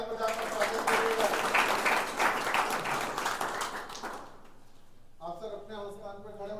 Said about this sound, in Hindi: जोरदार ताली बजाकर स्वागत करिएगा।